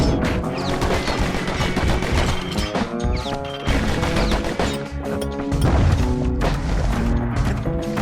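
In the video game Bastion, the Kid's guns let off rapid, sustained volleys of sharp shots, loud and close, layered over a tonal musical score with crashing impacts mixed in.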